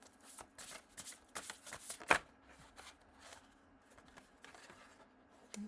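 A deck of oracle cards being shuffled close by, with soft riffling and irregular papery slaps and one sharper snap, quiet overall.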